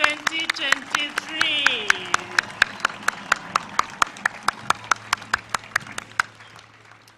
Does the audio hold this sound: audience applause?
yes